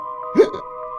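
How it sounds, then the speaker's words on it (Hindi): A single short hiccup sound effect pops up in a Hindi children's story about a magical banyan tree, heard once over a steady background tone. "तभी लगा कि किसी ने हिचकी ली"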